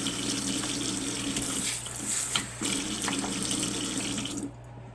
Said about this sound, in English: I love that, rinsing the sinks out.